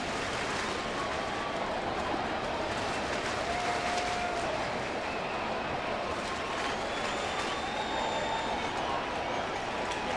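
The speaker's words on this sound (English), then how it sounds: "and the crowd now into it." A baseball stadium crowd at a St. Louis night game against Milwaukee keeps up a dense, loud roar of cheering and clapping, sustained and far-spread with no break.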